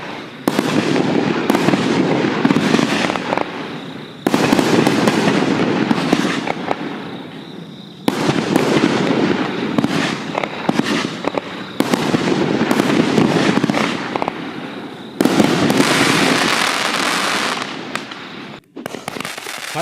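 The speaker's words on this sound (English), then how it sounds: "Electro Skull XL Aerial Finale Set" An Electro Skull XL aerial finale set of consumer fireworks goes off in a long, loud barrage of rapid crackling bursts and booms, running in several dense volleys with brief gaps between them.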